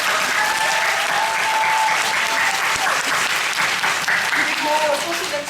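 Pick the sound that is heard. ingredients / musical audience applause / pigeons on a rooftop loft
musical audience applause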